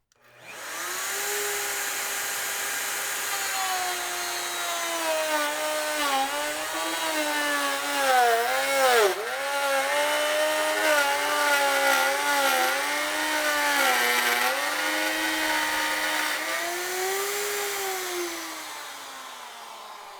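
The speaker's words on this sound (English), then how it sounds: "So the Bosch made a nice clean cut, but I feel like it struggled a little more than the Metabo HPT" Bosch router with a 3/4 inch straight bit cutting red oak at full speed: a loud, close high-pitched whine that dips and labors as the bit bites into the wood, then winds down at the end.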